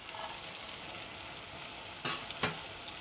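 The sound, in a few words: frying bombil (Bombay duck) with tomatoes, being mixed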